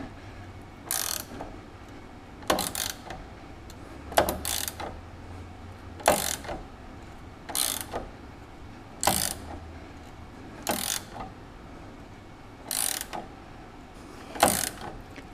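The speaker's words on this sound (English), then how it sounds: "that's torque wrench ready, and it actually pulled away from the bar" A torque wrench ratchets on rear sway bar nuts during a Porsche 944 LS swap, sharp clicking bursts repeating roughly every one to two seconds in a steady rhythm, close and fairly loud, with no talking.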